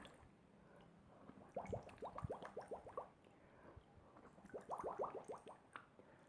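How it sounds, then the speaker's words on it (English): Bubbles blown through the mouth into water during an at-home swimming breathing drill, two bursts of rapid bubbling gurgles, quiet and close. "You keep your eyes out of the water and you just make bubbles with the mouth."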